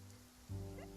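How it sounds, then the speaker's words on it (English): Steady rain falls in the Genshin Impact game world, a soft, even hiss of drops with a low hum and a faint tonal layer entering partway through, no talk. "It's raining."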